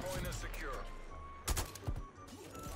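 Gunfire bursts in the World War II shooter Call of Duty: Vanguard, a few sharp cracks clustered midway through, over steady game ambience and under a talking voice.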